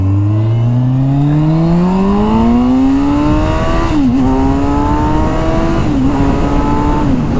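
A Kawasaki sport tourer motorcycle accelerates hard through the gears, its loud close engine note climbing in pitch with brief dips at each shift, set against steady wind rush and no talk.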